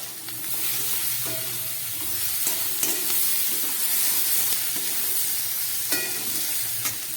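Chopped onion and tomato fry in a pan with a steady close sizzle, broken by a few scraping stirs and clicks of a spoon against the pan, with no talking.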